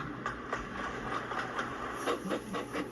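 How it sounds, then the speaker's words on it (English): Small engines pulling trucks full of slate rumble steadily along rails with light rhythmic clicks and clatter of wagons, a continuous moderate rolling sound with no voices. "They carefully trundled away from the incline with their trucks full of slate."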